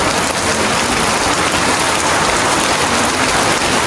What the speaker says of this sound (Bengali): এরপর কিন্তু শুরু হলো অস্থির লেভেলের বৃষ্টি।